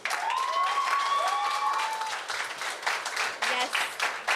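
A school audience claps in a sustained round of applause at an event. The clapping is dense and fairly near, with a few whistles or cheers early on, and it thins toward the end.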